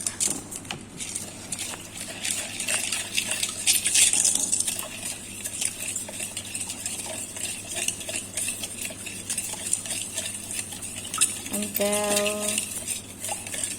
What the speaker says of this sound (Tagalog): Mix until dissolve everything.